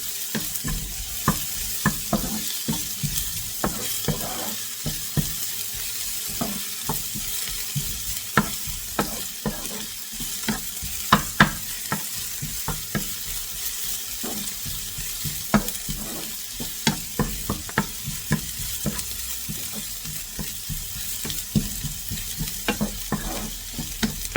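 Vegetables sauté in a pan for fried rice, with a continuous sizzle and frequent sharp clicks and scrapes as a utensil stirs and tosses them.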